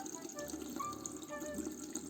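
Steady rush of running tap water splashing over hands as they are rinsed, continuous and close by.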